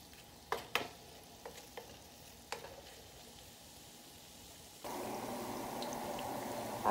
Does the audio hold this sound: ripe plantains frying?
yes